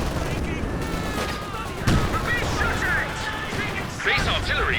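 Concentration barrage artillery fire in the video game Company of Heroes 2 thuds and crashes in repeated impacts amid a dense din of battle, with a commentator's voice talking over it.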